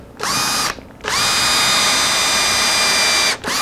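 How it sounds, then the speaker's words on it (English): A power drill boring into an acoustic guitar neck joint fixture in a workshop, whining in two bursts, a short one followed by a longer steady run, then stopping. "Well, I'm going to drill here now."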